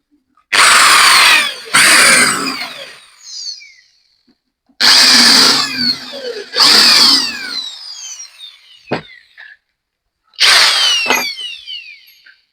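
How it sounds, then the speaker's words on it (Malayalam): A power drill with a 2 mm bit bores a screw hole, whining up and down in four or five loud short bursts separated by silences. "ഇവിടത്തേക്ക് തുള ഇടാനായിട്ടൊരു രണ്ടെമ്മിന്റെ വിറ്റാണ് ഞാൻ ഇടുന്നത്"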